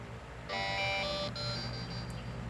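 A timer alarm sounds in a bright, steady electronic beeping tone that starts abruptly and holds for about a second before cutting off, fairly close and clear over a quiet room.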